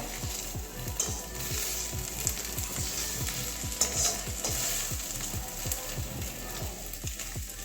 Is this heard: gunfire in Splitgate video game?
no